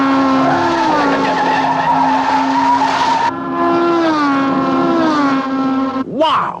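A racing car speeding round a race course, engine whining loud and close with long drawn tyre squeals and skidding, a sharp swerving squeal at the end.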